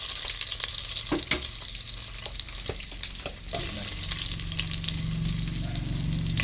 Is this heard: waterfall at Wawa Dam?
no